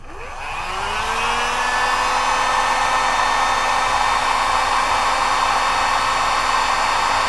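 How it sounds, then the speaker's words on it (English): A heat gun blows hot air to shrink heat shrink tubing on a copper grounding bracelet, a loud, steady whirring whine that spins up over the first second and holds constant, close by with no speech. "Now I'm just going to heat shrink it."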